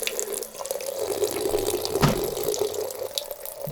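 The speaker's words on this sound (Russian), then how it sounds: "Сейчас вот такой только напор воды идет." Tap water running at low pressure in a cold rural house during a plumbing repair, a faint steady trickle with a soft splash in the middle.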